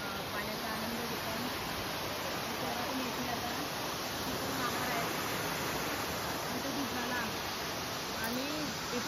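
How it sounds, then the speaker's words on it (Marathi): Water pours down at the Marleshwar waterfall, a steady, broad roaring rush that never lets up, heard from a short distance away. "पाणी भरपूर वरून येतंय"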